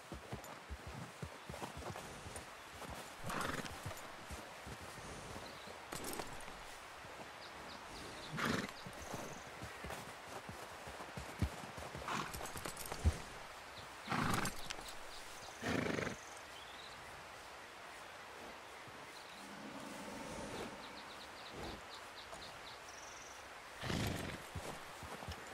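Horse hooves in Red Dead Redemption 2 clop and thud across a long stretch of riding, with intermittent louder snorts and whinnies and a low background of game ambience.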